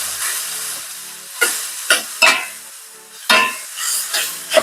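Sliced Cajun-spiced pork loin frying in a pan, a loud close sizzle broken by several sharp bursts as the meat is stirred and turned, with scraping against the pan between the hisses.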